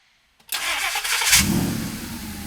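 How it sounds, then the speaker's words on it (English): A Superformance Shelby Cobra replica with a Coyote V8 cranks for a moment, then catches with a loud burst and a short rev. It settles into a deep, rumbling idle close by, with no talking. "let's fire Coyote up"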